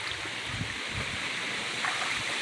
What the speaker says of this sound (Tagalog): Kung makikita mo yan, oh, yung tubig nanggagaling dyan, umaagos na ganyan.